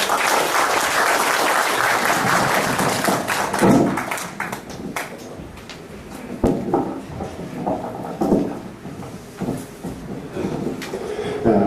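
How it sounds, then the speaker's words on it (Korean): A church congregation at Yeongnak Church welcomes a guest lecturer with warm, dense applause that lasts about four seconds, then gives way to scattered taps, shuffling and thumps as the room settles. "뜨거운 박수로 모시겠습니다"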